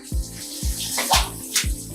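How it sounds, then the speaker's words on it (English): Water flicked by hand onto cornbread batter before it goes into a hot oven, heard as a series of four short, soft splashy taps in an even rhythm, close by with no talking. "I'm gonna flick it with some water."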